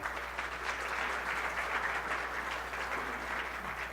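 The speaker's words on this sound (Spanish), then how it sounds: "Un aplauso al maestro Gustavo, por favor." A seated audience at a university academic panel in Guadalajara applauds steadily for a speaker, producing a continuous, even wash of clapping heard from a moderate distance at modest volume.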